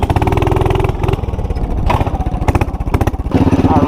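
Loud, close single-cylinder mini bike engine with a 420 motor, throttled hard during a wheel stand, with a rapid pulsing exhaust note that surges and drops between blips.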